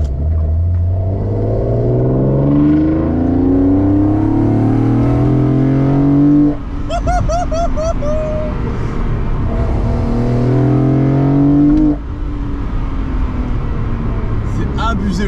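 A BMW E36 325i with an M3 intake revs up repeatedly with rising harmonic engine tones, a loud throaty roar and intake growl, and a person talks over it.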